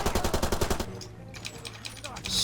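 Gunfire in the video game Far Cry 2: a rapid, loud automatic burst of evenly spaced shots at the start, then quieter scattered game sounds.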